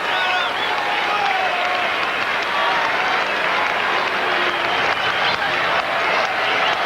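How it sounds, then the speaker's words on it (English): A large baseball stadium crowd at a 1999 Red Sox home game against Cleveland roars loudly and continuously ahead of a 3-1 pitch, with clapping and cheering forming an unbroken wall of noise. "And the crowd roaring in anticipation of the big 3-1 pitch from Colon."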